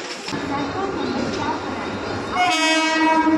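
A local train bound for Virar rumbles close by at Vasai Road with broad rail noise, then a steady horn-like tone cuts in near the end; voices are faintly mixed in.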